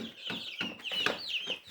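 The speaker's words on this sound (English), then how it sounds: "Baby chickens, little chicks." Baby chicks about three weeks old peep in a small barn, a quick run of high, shrill chirps repeated in close succession, near and clear with no talk.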